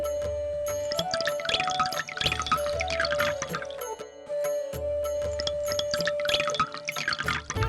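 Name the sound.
water poured over Shiva idol's head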